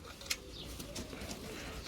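A crested pigeon coos nearby, with soft, low, rounded calls repeating over light background noise.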